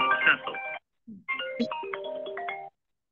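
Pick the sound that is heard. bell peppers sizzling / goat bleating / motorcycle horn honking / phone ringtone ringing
phone ringtone ringing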